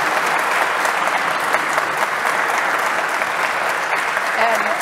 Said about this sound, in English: I'd like you to give a round of applause to our three panelists.